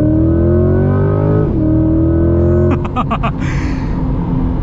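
A 2023 Chevy Corvette Stingray with a dual-clutch transmission accelerates hard in track mode, its engine rising in pitch, with a quick upshift and then rapid pulsing shifts as the revs climb again, loud and close.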